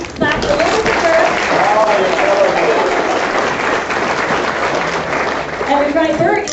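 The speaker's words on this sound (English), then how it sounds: "Can we just clap a little for Burt?" An audience at an evening event in Franklin Lakes claps for a guest speaker: loud, dense, sustained applause filling the room, with a few voices rising briefly at the start and end.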